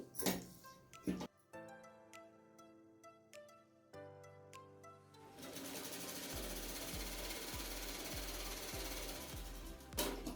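A sewing machine stitches a sleeve. It opens with a few scattered clicks and taps of handling, then a steady run of rapid mechanical stitching takes over for the second half.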